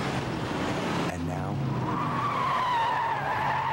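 Tires of a 350 horsepower Pontiac GTO skid and squeal loudly in a car commercial, a harsh screech joined by rising engine whine and under a voice.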